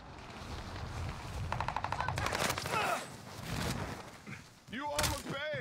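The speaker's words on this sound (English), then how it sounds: "We're taking fire." Video game gunfire during a Fortnite-style tournament match: a rapid burst of automatic shots in the middle, with scattered single shots and other game effects, mixed under excited players' chatter.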